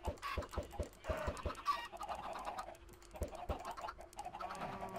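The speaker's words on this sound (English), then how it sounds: "You don't get many chickens." Minecraft chickens clucking in a quick, uneven run of short calls, fairly close and steady over a low game background, with no talk over them.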